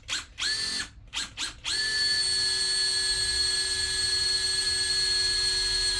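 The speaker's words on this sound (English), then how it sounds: "I'm using this, this is a Makita Compact from their Compact line" A Makita compact cordless drill bores into a steel trailer hitch step, starting with a few short stuttering bursts and then settling into a steady, loud, close high-pitched whine with no talking.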